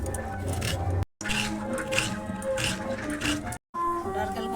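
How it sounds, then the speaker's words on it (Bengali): Fresh coconut being grated by hand for nadu sweets, rough repeated scraping strokes in quick bursts with two brief silent breaks, close and fairly loud. "নারকেলগুলো কুড়িয়ে নেব।"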